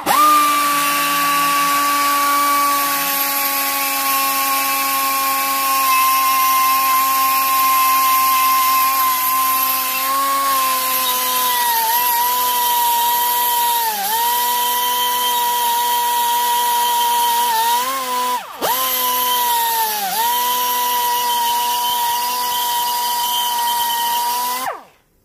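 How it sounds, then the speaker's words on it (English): Small high-speed die grinder with a 1/8 inch bit porting the housing of a rotary engine, whining steadily and close up, its pitch dipping repeatedly as the bit bites into the metal, with one brief cut-out near the end. "So for bridgeport, we're switching to a small 1/8 inch bit. You can grind away the holes."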